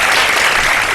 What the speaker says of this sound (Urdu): اس پہ تالیاں ہو جائیں.